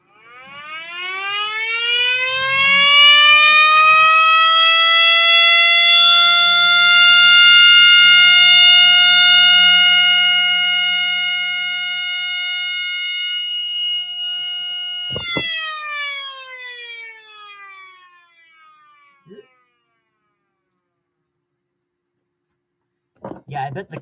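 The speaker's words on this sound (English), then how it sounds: "it sounds like a 2001, but hey, it's a 12-port siren" A 3D-printed Model 5 mini siren with a 12-port rotor winds up loudly from a low growl into a sustained high wail, holds for about fifteen seconds, then winds down and cuts off, with brief clicks afterward.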